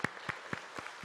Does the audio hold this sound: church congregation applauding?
yes